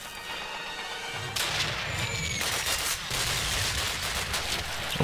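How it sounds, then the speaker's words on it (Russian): Gunfire in a Call of Duty campaign mission at a railway marshalling yard, with several sharp shots cracking over a steady background din of battle, moderately loud and without speech. "Ой, зря выстрелил,"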